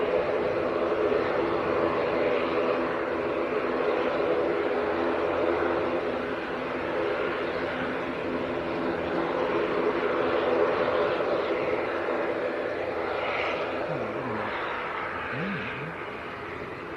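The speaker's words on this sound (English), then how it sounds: "Indigo Dreamliner just arrived." An IndiGo Boeing 787 Dreamliner arrives at Manchester airport with a steady, moderately loud engine rumble and hiss that eases slightly toward the end, heard without speech.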